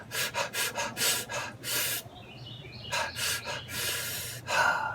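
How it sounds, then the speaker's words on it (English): Someone demonstrates erratic chest breathing, with rapid, irregular breathy gasps and sniffs in quick bursts, then a pause and another uneven run of loud, close inhales and exhales. "Chest breathers have a very irregular, erratic breathing pattern, which I just demonstrated."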